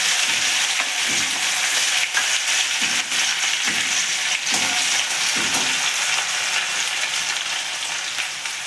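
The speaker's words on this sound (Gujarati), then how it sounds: "હવે આપણે આદુ લસણ મરચાંની પેસ્ટ લીધી હતી એ અંદર એડ કરી લઈશું" Ginger garlic chili paste hits hot oil that already holds cloves and cardamom, setting off a loud, steady sizzle up close. Several dull scraping strokes from stirring recur under the hiss, with no talking.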